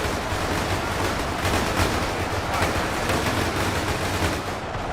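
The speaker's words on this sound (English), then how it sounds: "Look at all the bullets whizzing through the air as well." Dense gunfire and whizzing bullets fill a Warhammer 40k battle as Orks breach an Imperial fortress, a continuous rattle of machine guns and shots with no pause, loud and busy throughout.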